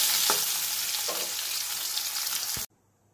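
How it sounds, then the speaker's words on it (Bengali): Boiled potatoes frying in hot oil in a wok: close, bright sizzling with a few scraping stir sounds, ending abruptly into near silence. "এবার আলুগুলো একটু ভেজে তুলে নেব।"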